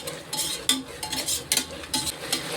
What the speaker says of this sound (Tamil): இஞ்சி போட்ட செகண்டில் பாத்திரத்தில் ஒட்ட ஆரம்பிச்சிடும் நம்ம கொஞ்சம் நல்லா கிண்டிக்கிட்டு இருக்கோம்